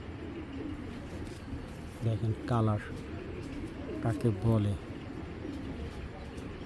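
Young red checker pied racing pigeon cooing up close, two short bursts of rolling coos separated by a pause, with someone talking quietly alongside.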